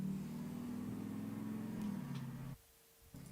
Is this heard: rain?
no